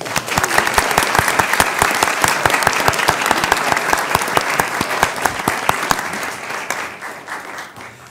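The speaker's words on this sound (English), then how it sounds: "We give her a round of applause." A school board meeting audience applauds a student award winner, steady dense clapping that stays loud throughout before thinning and fading near the end, with no talk over it.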